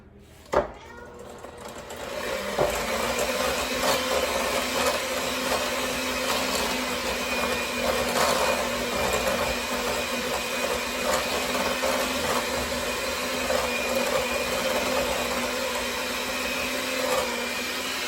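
An electric hand mixer beats fluffy cookie dough, switching on with a click and then whining in a steady, close, continuous motor drone with faint rattling, while someone talks over it.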